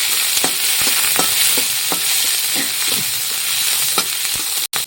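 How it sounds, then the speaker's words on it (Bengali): Onions and green chillies frying in oil, a loud continuous sizzle close up with repeated scraping strokes of a spatula stirring the pan. "পেঁয়াজগুলো ভাজা হয়ে গেছে সুন্দর লাল লাল"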